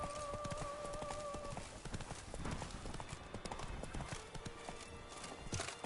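Roach, the horse in The Witcher 3, gallops with steady rapid hoofbeats throughout, close and loud. A sustained tone in the first second and a half and faint background game sounds sit under the hooves.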